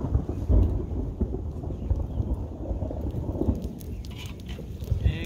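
Rain falls steadily outdoors while thunder rumbles low and distant, a soft, continuous wash with brief heavier swells.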